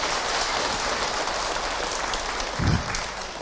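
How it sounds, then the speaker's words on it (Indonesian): An Islamic gathering's congregation claps together at a religious talk, a steady wash of applause that carries on for several seconds, moderately distant, with one thumping bump near the end. "Tepuk tangan buat kita semua."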